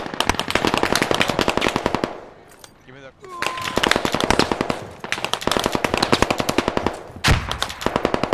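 Rapid bursts of automatic gunfire in the video game Squad rattle almost continuously, loud and close, with a brief pause in the middle before the shooting resumes.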